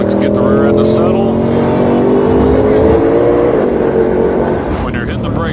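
A car engine revs steadily under throttle with a sustained, droning tone, loud and close throughout; a voice talks faintly over it.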